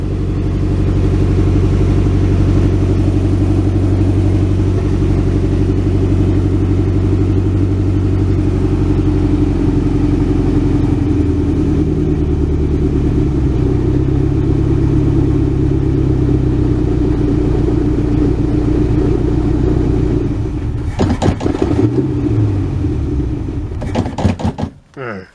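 A 1967 Ford Galaxie V8, just revived after carburetor and brake work, runs loud and close with a steady, slightly uneven rumble for about twenty seconds, then sputters and cuts out near the end.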